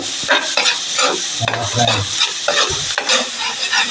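Garlic sizzles in butter for a shrimp dish while a utensil stirs it. A loud, continuous frying hiss carries throughout, broken by scraping strokes and a few low knocks, with no one talking.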